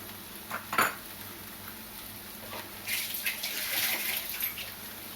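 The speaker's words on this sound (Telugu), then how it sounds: "నేను పెరుగు వేస్తున్నాను, కొంచెం టేస్ట్గా ఉంటుందని." Curd being added to a meal maker curry in a pan, with a short clink of utensil against the pan followed by a soft, wet spooning and stirring sound a couple of seconds later, no talk.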